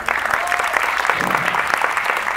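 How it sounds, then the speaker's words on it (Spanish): An audience at a circus festival breaks into brief, dense applause, a close wash of clapping with a few voices mixed in. "Quiero agradecer a ustedes y regalarles un fuerte aplauso."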